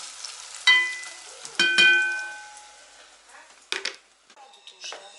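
Raw minced meat and raw lard frying in a pan in a village kitchen, a soft sizzle broken by several loud clattering stirs and scrapes, with quieter bursts near the end and no talk.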